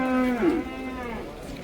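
A male calf moos at a livestock market, one close, drawn-out bellow with a rising, wavering pitch, over a steady murmur of background noise.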